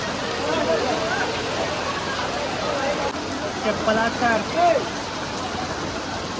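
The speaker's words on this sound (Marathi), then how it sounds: "अचानकच भयानक पाऊस लय जोरात चालू झाला." Sudden heavy rain pours near a riverside temple in Omkareshwar, a steady loud hiss of falling water, while people talk over it close by.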